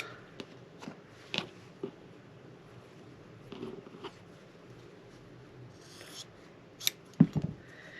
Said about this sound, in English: you take your scissors and you cut off both of these pieces.